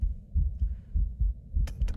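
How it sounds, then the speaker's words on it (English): A steady heartbeat sound effect plays in a Roblox game cutscene, with low, thudding double beats repeating about every half second, close and prominent. A short brighter noise cuts in near the end. "But the heartbeat is like actually stressing me out a bit."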